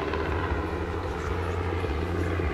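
A Sikorsky UH-60M Black Hawk helicopter of the Slovak Air Force at a NATO Days air show in Ostrava, its steady, loud rotor and turbine drone holding constant with a low throbbing hum and no voices.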